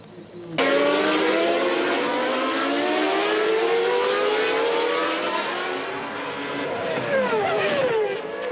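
Formula 1 race car in the 1992 season, an onboard crash replay: a loud, continuous engine scream with rising and falling pitch as the car revs through gears, then a sharp drop and shift near the end.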